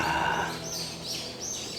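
Birds chirping and singing in a cypress forest in Geoncheon-eup, Gyeongju, repeated bright tweets over a soft outdoor background hush, moderately distant and continuous.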